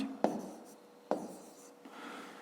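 Pen strokes writing numbers by hand during a fifth-grade long-division exercise: two distinct scratchy taps with short bursts of writing, close and fairly quiet, with no talking.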